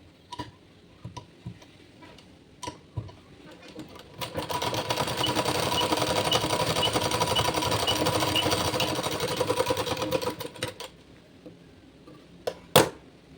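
A sewing machine stitches a blouse seam a quarter inch wide, with a steady mid-loud whirring run of rapid stitching lasting several seconds, framed by scattered clicks and handling taps before and after.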